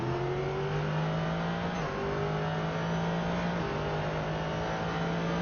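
GT2 race car engine heard onboard with driver Jesper Groeneweg, a loud steady drone holding high revs, with two quick upshifts as the car drives the backstretch.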